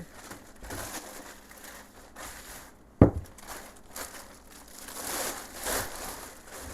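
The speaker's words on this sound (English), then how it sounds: "let's start by getting our black paper bag" A black paper bag being crinkled and handled while a Griswold cast-iron pan is prepared for stripping, with soft rustling throughout and one sharp, close snap near the middle.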